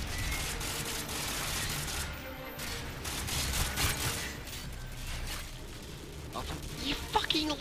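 Dense, sustained automatic gunfire from a Call of Duty Modern Warfare 2 firefight rattles on loudly throughout, with rapid overlapping shots and mechanical clatter, while players chatter over it.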